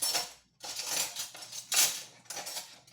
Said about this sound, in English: I know I'm making a lot of noise with this silverware, aren't I?